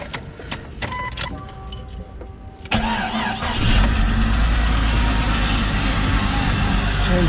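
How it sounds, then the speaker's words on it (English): A Jeep started in a snowy, muddy setting: keys jangle and clink first, then the engine cranks and catches, settling into a steady idle close by. "turn the Jeep on"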